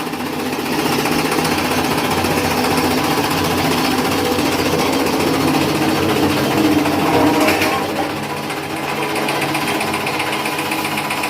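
An Ambika Agro chaff cutter runs nonstop with a loud, rapid mechanical chatter, steady and close, as green Napier grass is fed through its cutting blades.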